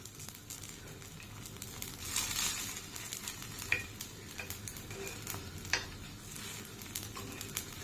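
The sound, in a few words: paddu (rice dumplings with dill) flipped in a pan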